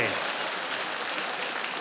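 Steady applause from a comedy show audience, a dense wash of clapping filling the short stretch without pause.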